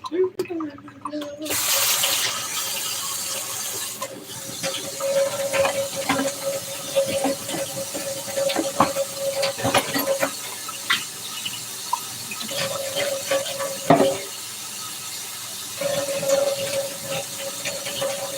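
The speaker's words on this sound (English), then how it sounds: "Do dishes because this is all we can do right now." A kitchen tap runs steadily into a sink full of dishes, with splashing, clinks of crockery and brief pauses in the flow, while a person talks intermittently over the water.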